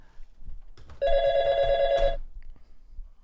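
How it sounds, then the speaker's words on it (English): A telephone rings once, a bright electronic trill lasting about a second, with faint background rustling before and after. "I can hear the phone ringing."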